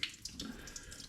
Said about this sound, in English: I kind of want to flush off any of the acid basic mix that I've been doing